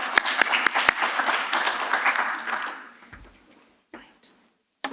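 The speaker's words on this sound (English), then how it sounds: "Please give her a round of applause." Audience applause at a circular-economy presentation in South Africa, a burst of clapping with a few sharp individual claps that fades out over about three seconds, leaving near silence with a couple of faint knocks.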